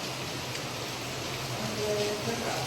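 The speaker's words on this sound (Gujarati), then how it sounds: "વરસાદ પણ બંધ નથી થતું" Steady rain falls outside during an evening of home cooking, a constant even hiss with no pauses across the short stretch, with faint tones near the end.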